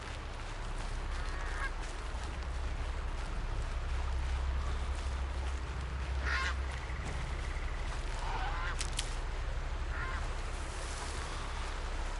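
Goose honks in the video game Horizon Zero Dawn, a few brief calls scattered over a steady outdoor ambience with low rumble, moderately distant and not loud.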